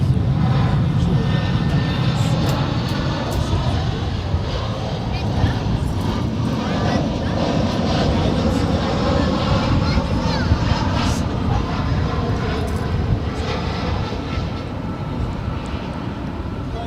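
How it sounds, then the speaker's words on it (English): An American Airlines A320 jet arriving at Dallas DFW airport gives a sustained, loud engine roar that holds steady throughout, with a broadband rumble and faint whine. "Next arrival, American Airlines Flight 1076 coming in from Monterey."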